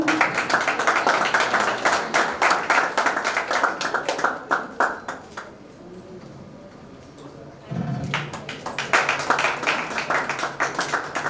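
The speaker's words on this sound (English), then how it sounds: "A big round of applause, everyone." An audience claps at a literature and art festival as a memento is presented, dense rapid applause that fades to a pause, then resumes strongly.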